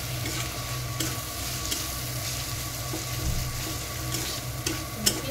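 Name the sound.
onions and spices frying in oil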